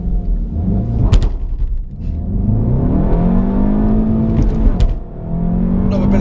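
A SEAT Leon Cupra 300 pulls hard in first gear from a standstill, its engine note climbing steadily, briefly dipping at a rough gear change, then rising again, loud and close from inside the car with no talk.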